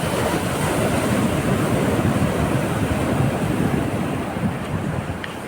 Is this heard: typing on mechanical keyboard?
no